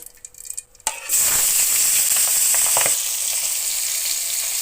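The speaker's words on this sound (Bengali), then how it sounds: "তেল গরম হয়ে গেছে এখন আমি মাছগুলো দিয়ে কষিয়ে নিব" Fish coated in turmeric and salt hits hot oil in a wok with a sudden loud burst of sizzling that stays steady and close, after a few brief clatters of handling.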